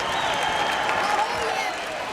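Boxing arena crowd cheering and applauding during a fight, a dense continuous roar of many voices, loud and steady, with a commentator talking over it.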